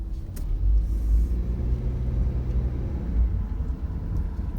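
A car drives along a city street, its interior rumble a steady low drone throughout with faint road noise and no talk.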